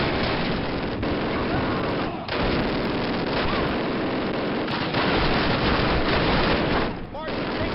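Gunfire crackles through a Call of Duty (2003) firefight, a dense, continuous barrage of close shots with brief dips, loud throughout and mixed with battle noise and voices.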